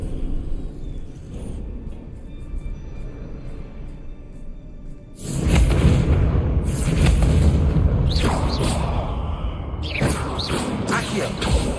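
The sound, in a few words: spell explosions in a Harry Potter wizard video game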